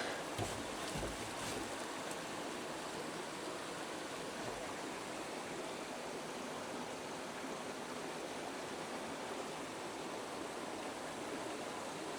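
Steady broadband rush of flowing water running beneath an old farm building in Norway, continuous and fairly loud with no talking over it.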